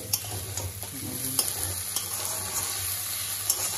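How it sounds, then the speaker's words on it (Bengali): Egg noodles coated in soy sauce and tomato ketchup are tossed in a hot pan, with a constant sizzle and irregular utensil scrapes and taps up close, a faint steady tone humming underneath, no talking. "Tomato ketchup. ভালো করে আরেকবার নাড়িয়ে নিতে হবে।"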